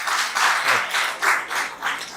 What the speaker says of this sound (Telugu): సో సహజంగానే ఆ క్లాప్స్ వచ్చినందుకు ధన్యవాదాలు